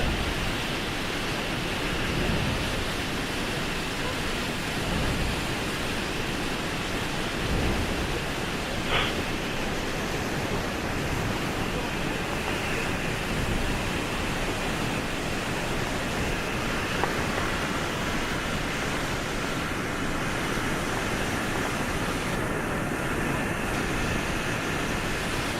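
Niagara Falls roars as a dense, continuous wash of broadband noise, steady and loud with no pauses and no voices.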